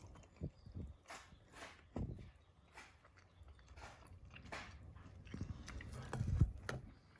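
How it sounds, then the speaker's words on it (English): Crunchy bites into sugar-encrusted French toast cooked at a deer camp, several close, sharp crackling bites and chewing spaced across the clip, moderately loud with no talking. "I cut away long enough to see if I could hear the crunch of the toast"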